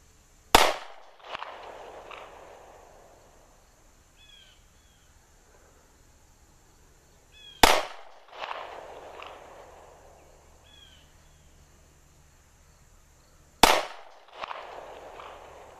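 Three sharp, loud shots from a Springfield XD9 subcompact pistol, fired outdoors several seconds apart, each crack echoing briefly before it fades, with faint birdsong in the background.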